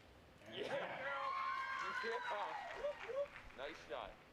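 Crowd at a compound women's archery quarterfinal in Yankton breaks into applause and cheering, rising quickly and holding for a few seconds before trailing off into scattered shouts and claps, with voices mixed in.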